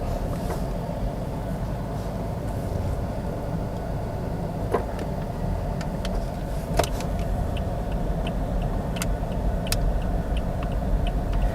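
Toyota Yaris 1.2 G automatic, a 2015 model, driving a U-turn: steady engine and road rumble heard from inside the cabin, with a faint ticking of the turn signal throughout.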